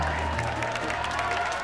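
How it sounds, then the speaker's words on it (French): Studio audience clapping and cheering for dancers in a sitcom scene, a brief dense burst of applause over a low music bed. "Allez, on encourage Piper et Carl en les applaudissant bien fort."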